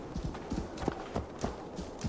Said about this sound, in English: Let's go for a little horse ride around town.